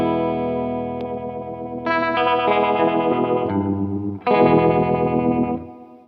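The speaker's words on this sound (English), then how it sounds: "For this final tone, I've got the intensity and the speed maxed with a mix of 50-50 on the" An electric guitar runs through a J. Rockett Uni-Verb on chorus mode with intensity and speed maxed and a 50-50 mix, giving warbling, shimmering strummed chords with sharp new attacks and a fading tail.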